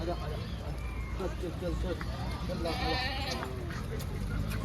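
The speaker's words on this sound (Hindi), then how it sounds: "हमें दिखे गडरिये, जो कि अपनी भेड़ बकरियां लेके जा रहे थे" Sheep and goats driven by shepherds bleat repeatedly over a steady outdoor mountain background near Chopta, India, with people talking nearby and hooves shuffling.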